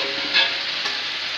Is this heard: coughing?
no